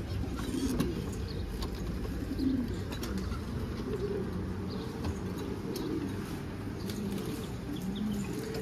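Low, soft cooing of pigeons in a large coop repeats steadily over a busy background of rustling and faint bird activity, with occasional wing flutters.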